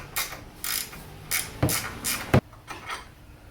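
A ratchet turning the brake caliper bolts on a Chevy in a driveway: several short, close ratcheting strokes with a rough metallic rasp, a few sharp clacks between them, and no talking.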